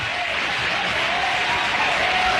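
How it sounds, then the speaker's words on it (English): A studio audience gives a burst of loud, dense applause that holds steady for the whole stretch, with no voices over it. "It's cheap applause."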